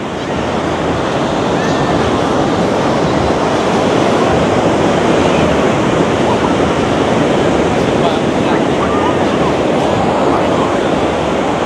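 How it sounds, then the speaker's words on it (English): Steady ocean surf at Seminyak Beach in Bali, a continuous loud wash of breaking waves with wind buffeting the microphone, filling the whole stretch without letup. "So the ocean does look a little bit wavy here, however they don't appear to be big waves."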